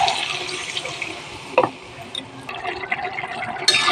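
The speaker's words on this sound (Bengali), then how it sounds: "এবারে জল দিয়ে দেব।" Water is poured into a pan over mustard paste and chili powder, a steady splashing fill that swells briefly and runs on to the end, with no talking.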